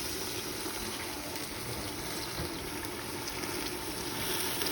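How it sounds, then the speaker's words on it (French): Hot water poured into a tagine with grated tomato and parsley, a steady broadband rush of liquid running continuously for about five seconds and swelling slightly at the end, close up with no talking. "Et je vais ajouter de l'eau, bien sûr,"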